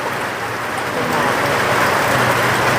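Steady rain falling, a dense, even hiss that holds at a constant level throughout with no clear individual drops.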